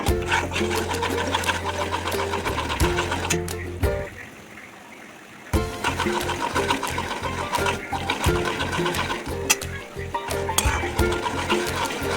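Semolina (rava) is roasted and stirred in a pan, a close, loud scraping and rattling with rhythmic strokes. A quieter pause comes partway through, then the stirring resumes.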